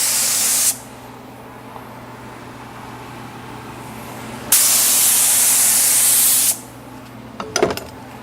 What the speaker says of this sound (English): We spray Activator at about 17 psi.